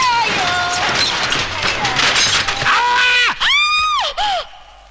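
Screaming in the dark, a string of loud, shrill cries that rise and fall, ending in a few sharp yells, close and dominant with no steady background.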